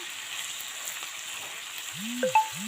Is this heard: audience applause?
no